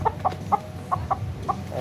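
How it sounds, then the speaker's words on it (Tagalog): Gamefowl rooster from a gamefarm, clucking in a short series of about six sharp, fairly close calls spread evenly over the moment, with no talk. "Ay, manok."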